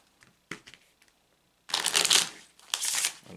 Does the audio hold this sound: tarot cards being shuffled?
yes